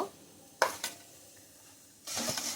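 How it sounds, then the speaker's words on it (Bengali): Sour dal is stirred as it boils in a cooking pot, giving a couple of short scraping strokes, then a steady bubbling hiss that swells near the end, close and fairly quiet. "আমি এখন একটুখানি নেড়ে দেবো, ফুটে এসছে, এখন ফেনা চলে আসবে।"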